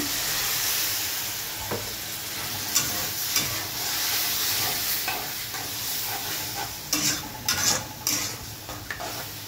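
A spice paste of onion, chili, turmeric, chili powder, ginger paste and garlic paste fries in a pan for a sea fish curry, a loud close sizzle with repeated scraping stirs and utensil clinks, no talking.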